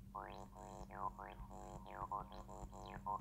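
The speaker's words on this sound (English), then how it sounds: "It's like a square and a sawtooth mixed." A Caustic 303 emulator synth plays a squelchy bassline with a mixed square-sawtooth waveform, repeated short notes with sweeping filter chirps in a steady rhythm, clean and alone.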